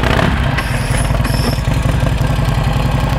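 An Indian motorcycle fitted with a sidecar runs at a steady, loud idle up close, its engine thumping in a rapid, even rhythm.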